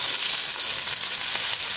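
Garlic and chili frying in a pan, a dense, steady hiss of sizzling oil, close and even throughout with no voices.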